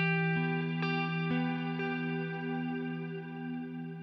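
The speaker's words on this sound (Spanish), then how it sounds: "Entre menos decay, menos dura la reverb." A sustained tone with a chorus-like effect rings on, and short transient hits smear into a brief reverb tail set to a short decay during a mixing demonstration. The sound fades gradually with no talk.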